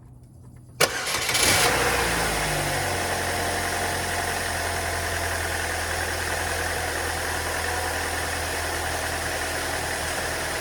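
A 2.2-liter car engine cranks briefly, catches with a sharp burst and settles into a loud, steady idle with a constant low hum that runs close and unbroken for about nine seconds.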